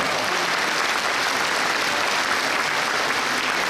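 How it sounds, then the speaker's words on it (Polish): Audience applause at a celebrity tennis tournament in Świnoujście, a steady dense wash of clapping from a crowd that fills the whole moment at even loudness without a break. "Brawa dla niego."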